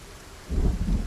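A rain-heavy thunderstorm in Indie Stone's zombie survival game: after quiet ambience, a low, loud rumble of thunder rolls in and sustains over steady rain.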